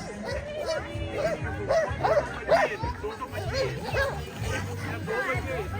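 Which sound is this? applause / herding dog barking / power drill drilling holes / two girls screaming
herding dog barking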